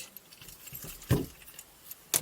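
A car key jangles as it is handled and slid into the ignition, with light metallic clinks and a couple of sharper knocks in a quiet car interior.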